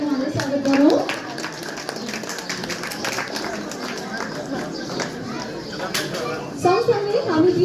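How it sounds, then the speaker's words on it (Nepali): An audience at an award and honor ceremony claps to welcome a guest on stage, a fairly steady patter of hands heard alongside crowd chatter and a voice on a microphone. "एकचोटि फेरि सबैजनाले जोरदार तालीले उहाँलाई स्वागत गरौँ"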